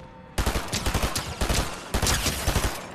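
Rapid gunfire in the Fortnite video game, a burst of loud close shots fired in quick repeated bursts across a few seconds.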